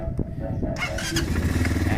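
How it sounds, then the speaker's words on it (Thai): A new X-Land 300cc ATV engine cranks briefly after a quiet moment, then catches and settles into a steady, throbbing idle close by. "เดี๋ยวมาฟังเสียงเครื่องยนต์กันนะครับ"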